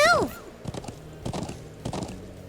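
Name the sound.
horse galloping hooves in video game Trails of Cold Steel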